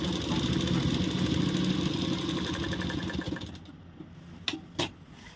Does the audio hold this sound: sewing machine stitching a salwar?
yes